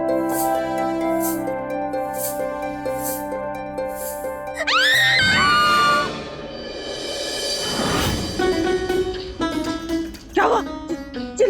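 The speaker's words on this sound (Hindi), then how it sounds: "चिल्ला क्यों रही है?" A woman lets out a loud, shrill scream in a kitchen at night during a Hindi TV drama scene, rising sharply over background music and then fading into a noisy rush of sound.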